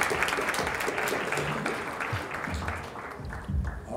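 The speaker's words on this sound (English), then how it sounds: "You guys are very welcome to give him another round of applause." Audience applause after a university lecture at Rutgers, a dense steady clapping from a large crowd that fills the whole stretch at fairly even loudness, with a few low thumps near the end.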